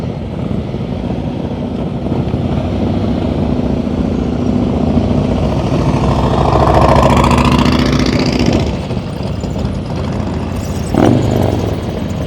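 A motorcycle in a slow-speed riding practice session in Maryland pulls out and turns left, its mid-pitched engine idling then swelling briefly in a steady, moderately close drone with no talking.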